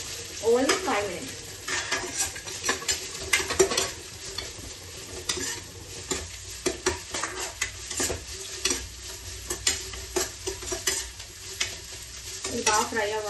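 Vegetables for vegetable biryani fry in a pan with a continuous sizzle under busy, rhythmic stirring, as the spoon scrapes and clatters against the pan in quick, uneven bursts.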